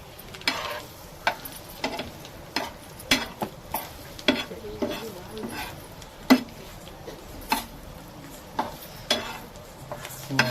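Quail eggs frying with pepper and asafoetida in a pan, stirred with a utensil: a steady soft sizzle under repeated sharp scraping clinks of metal against the pan at an uneven rhythm, close and moderately loud.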